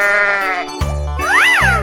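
Sheep bleating in a cartoonish 3D animal slide game: a couple of short, close, wavering bleats in quick succession, with no talking over them.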